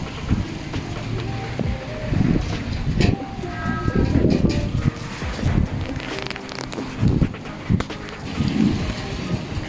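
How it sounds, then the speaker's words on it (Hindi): On a rainy summer day, wind gusts roughly across an outdoor mic in uneven bursts, with a low rumble from traffic or surroundings and brief talk mixed in. "बहुत ही मज़े की हवा चल रही है इस टाइम।"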